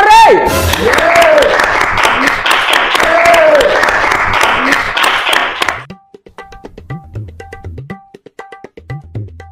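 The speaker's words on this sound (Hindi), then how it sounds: "ताली बजा रे" An audience at a comedy shayari show claps steadily and loudly for close to six seconds, then the applause thins into a few scattered, fading claps.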